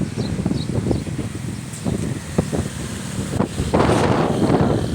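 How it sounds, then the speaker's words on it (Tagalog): Strong wind buffets the microphone in gusts during light drizzle, with rustling and a louder rush building near the end. "Grabe pong hangin."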